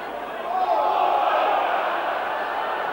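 A rugby league crowd at a 1997 World Club Challenge match between Wigan and Brisbane rises into a loud, sustained roar of shouting, swelling after half a second and holding steady throughout.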